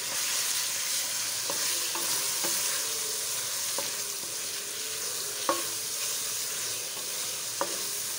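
Chicken fries with garlic and ginger in a pan for a chicken matar pulao, a steady close sizzle with a few sharp clinks of a stirring spoon scattered through, no voices.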